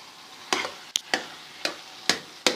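Radish and spinach bhujiya in a pan, mashed with a utensil: six sharp scraping, squelching strokes at irregular intervals over a faint steady sizzle, close and moderately loud.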